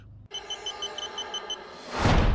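A TXI carp fishing bite alarm sounds a rapid run of clear electronic beeps, loud and close, repeating in an even pulse before a rush of broadband noise takes over at the end.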